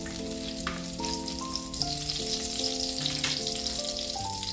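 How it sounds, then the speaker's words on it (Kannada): Onions fry in ghee with a continuous, even sizzle, accompanied by soft stirring, under a layer of background music. "ಈ ಈರುಳ್ಳಿ ಸ್ವಲ್ಪ ಹೊತ್ತು ಈ ತುಪ್ಪದಲ್ಲಿ ಫ್ರೈ ಮಾಡುವ."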